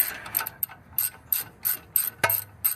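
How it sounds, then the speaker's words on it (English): A wrench ratcheting on a 12 mm bolt on a 2002 first-generation Toyota Tundra during ball joint work, a series of sharp clicking pawl bursts in an uneven rhythm, close and fairly quiet. "This is a 12 millimeter and we're tightening."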